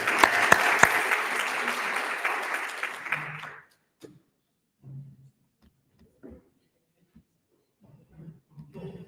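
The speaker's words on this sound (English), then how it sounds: "Just give him another round of applause." Applause from a conference audience at an annual day event, a dense round of clapping for about three and a half seconds that stops abruptly, followed by quiet room noise with faint scattered sounds.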